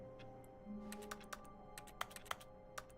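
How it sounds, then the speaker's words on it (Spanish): Keyboard keys being typed on while playing The Stanley Parable: Ultra Deluxe, a run of close, sharp clacks that grow more distinct midway, over a low steady background hum with no voice. "suena como que estoy con un teclado sin nada"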